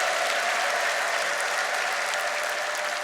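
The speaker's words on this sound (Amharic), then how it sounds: "እንደገና እልልታ፣ ጭብጨባ፣ ክብር ይስጠው" Church congregation applauding with ululation, a dense, steady roar of clapping from a large crowd, sustained and fairly loud throughout.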